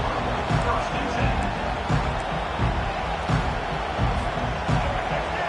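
Broad roar of a college football stadium crowd during an NCAA game, a steady loud wash of voices with rhythmic swells and thuds, as if fans chant and stomp to keep the opponent pinned deep.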